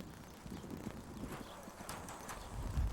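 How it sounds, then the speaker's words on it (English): Horse hooves clip-clop in a steady, fairly close rhythm over low background noise, growing louder near the end. "This horse here is, you couldn't ask for a better horse in anybody's breed."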